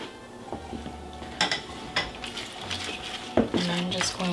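A utensil stirs bacon and bacon drippings into a keto creamy chicken Florentine casserole mixture in a dish, with scattered clinks and scrapes against the dish and soft, wet stirring between them.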